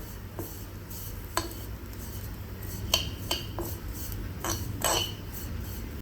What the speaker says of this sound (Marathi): हलकंसं भाजून घेते मी, कारण एकदम नाजूक असतात या शेवया